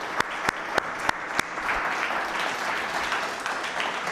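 A church congregation applauds: a few sharp, separate claps ring out near the start, then swell into a sustained, rolling burst of many hands clapping together at close range.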